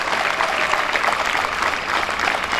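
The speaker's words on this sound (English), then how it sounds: "It's a big, big applause for them" A crowd gives big, sustained applause for the kitchen staff, a dense steady wash of clapping at a constant level throughout.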